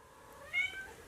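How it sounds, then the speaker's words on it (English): A pet cat gives a single short meow indoors, faint and close, with a rising then falling tone over a quiet room background. "So I apologize if you hear meowing."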